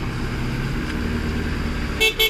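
A Toyota Fortuner 4x4 climbs an off-road slope with a steady low engine drone, then two short car-horn toots near the end.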